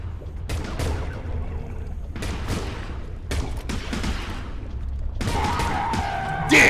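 Repeated bursts of gunfire in the underwater shark-and-diver game Depth, loud clusters of shots separated by short gaps, with a brighter burst near the end.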